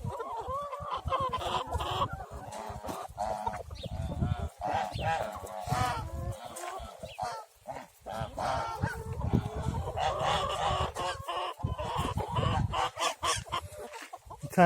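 Geese and chickens in a village yard honk, cluck and crow almost continuously nearby, with someone speaking over the birds throughout.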